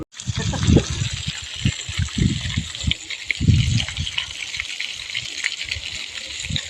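Water gushes steadily from a pipe on a farm with a constant rushing hiss, while a voice speaks over it in short bursts.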